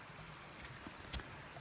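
A grasshopper chirps in the mountains as a faint, steady, pulsing high-pitched trill that runs throughout without pause.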